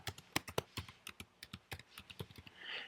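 Rapid typing on a computer keyboard, with close, crisp, irregular key taps clicking along alone for a few seconds at low volume.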